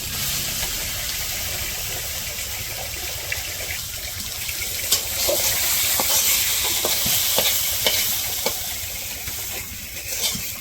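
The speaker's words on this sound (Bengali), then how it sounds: "কুমড়া ভাজিটা করতে দিয়েছিলাম" Pumpkin fries in a pan in a village kitchen, giving a steady close sizzle throughout with scattered scraping clicks from stirring.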